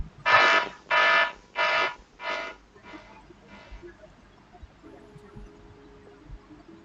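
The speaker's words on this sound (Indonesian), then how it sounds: "maka nanti alarm akan berbunyi." Four loud electronic alarm beeps in a steady rhythm, triggered by removing a face mask, followed by two fainter beeps, then quiet background hum.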